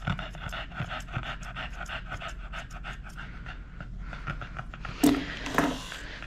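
A Cocker Spaniel pants rapidly and steadily during a grooming session, close and fairly quiet, with a couple of louder handling or clipper noises near the end.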